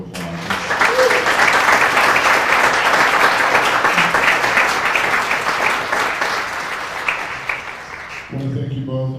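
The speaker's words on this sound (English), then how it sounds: "let's give both of the candidates a big round of applause" Sustained applause from a debate audience for the two candidates, dense and loud from start to finish, then fading out abruptly near the end as other sounds come in.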